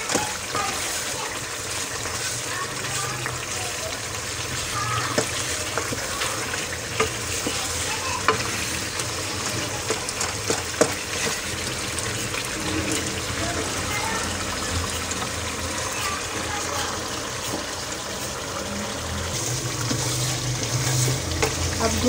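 Meat browning for aloo gosht, frying and being stirred in a pot with a steady crackling sizzle and scraping stirs throughout, fairly close, with faint voice in the background.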